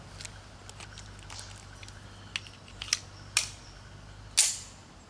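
A Remington Rand 1911 reproduction pistol by TISAS is reloaded, giving a series of sharp metallic clicks and clacks that grow louder toward the end, the last one loudest, with no talking.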